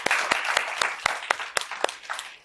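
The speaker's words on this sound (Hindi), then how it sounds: "आपके लिए तालियां।" Audience applause at a women's programme honouring a farmer, distinct sharp claps about every quarter second, fairly steady and moderately close, with faint background talk.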